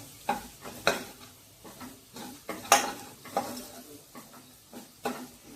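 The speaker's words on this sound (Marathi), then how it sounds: "हे मसाले 1 मिनिटभर आपण परतून घेऊया" Spices and onion sautéing in a pan for a spiced jackfruit-seed dish, with a soft sizzle under irregular spatula stirs and scrapes, some louder strokes standing out.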